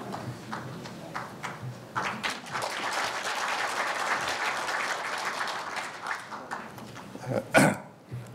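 At a university newspaper's 70th anniversary ceremony, an audience's applause swells after a few scattered claps, holds as a full crowd sound for several seconds, then thins into sparse claps and a loud close knock near the end.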